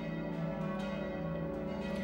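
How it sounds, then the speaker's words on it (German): The three bells of the Hochmeisterkirche ring together in a dense, sustained, humming peal that is fairly faint and steady throughout, with no voices. "Die drei Glocken der Hochmeisterkirche haben den Zweiten Weltkrieg überstanden"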